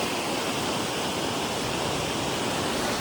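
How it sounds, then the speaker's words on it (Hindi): A river flows far below in the mountains, a steady broadband rushing of water that stays even and continuous throughout, with no voices over it. "नीचे बहती नदी की आवाज़ और ठंडी हवा"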